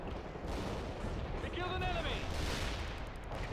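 Bombs dropping in World in Conflict: Soviet Assault give a steady rumbling wash of distant blasts and gunfire, a brief whistling tone rising midway, all fairly faint with no clear single impact.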